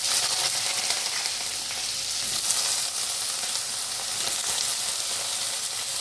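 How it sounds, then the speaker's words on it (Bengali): Long lengthwise-cut eggplant slices fry in hot oil, giving a loud, steady, close-up sizzle that stays even throughout with no talking. "বেগুন ফ্রাই হচ্ছে।"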